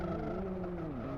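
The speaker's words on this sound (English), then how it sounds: "Turning left for the slight kink, and now braking." A race car in Live for Speed brakes hard into a slight kink, its engine note dropping steadily over a short stretch with a faint tire hiss.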